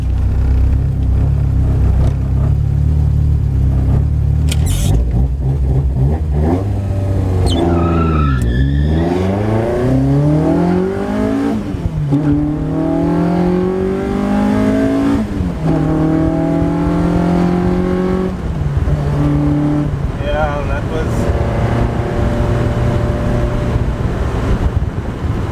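A MK2 Golf GTI 16v with individual throttle bodies runs a drag race at Killarney. The engine note climbs loudly and close through several rising gear pulls, each shift dropping the pitch before it climbs again.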